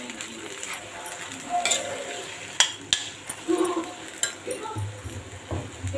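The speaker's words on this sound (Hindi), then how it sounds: "जब तक आलू का हलवा पक नहीं जाता ना, तो इसको चलाते ही रहना है" Potato halwa is stirred in ghee in a pan, with a spoon scraping and clinking against the metal in short, irregular strokes over a low background.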